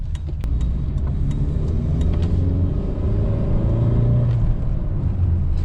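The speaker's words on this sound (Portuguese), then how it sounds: "deu um tempinho para ouvir meu motor enchendo" A Volkswagen Logus GLi car engine rumbles steadily up close, its low drone rising slightly as it revs, with no talking.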